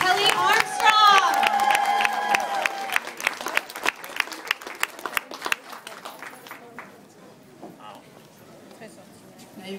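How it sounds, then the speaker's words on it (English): An audience at an author Q&A in a bookstore claps and cheers loudly, the applause swelling then thinning into scattered claps that fade out. "give her a big round of applause"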